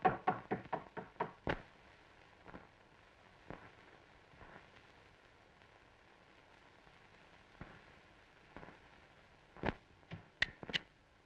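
Someone raps on a wooden house door in quick bursts of sharp, close knocks, first a rapid run of six or seven, then scattered single knocks, and a final flurry after a quiet pause.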